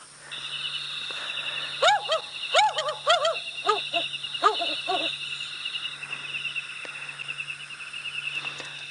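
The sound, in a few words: African wood owl call played from phone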